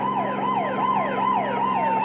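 A wailing car siren from a radio drama sweeps up and down rapidly in a steady, repeating cycle, loud and continuous with no talk over it.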